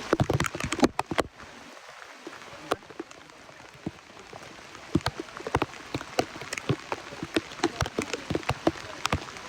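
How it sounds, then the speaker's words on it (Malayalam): Heavy rain falls at Matheran hill station, a steady wash of sound broken by many sharp, close drops and splatters. The rain is moderately quiet and there is no speech. "അത് നല്ല മഴത്താ, നല്ല ഹെവി റെയിനാണ്."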